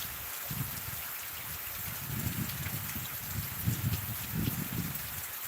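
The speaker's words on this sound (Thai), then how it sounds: "วันนี้ฝนตกแรงหนักค่ะ" Heavy rain pours steadily outdoors on a rural property where grass has just been cut, a constant hiss of downpour with soft, irregular low thuds of drops hitting nearby surfaces.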